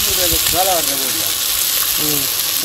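Mackerel masala fry on a tawa, a loud, steady hiss of sizzling that runs throughout, while a voice talks briefly over it near the start and again near the end.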